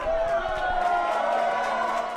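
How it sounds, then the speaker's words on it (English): A crowd outside a passport office cheers and whoops in a dense, continuous roar, with scattered claps and voices mixed in. "Cheers, tears, and claps breaking out as the first person in 3 hours is let in through the doors of the passport office"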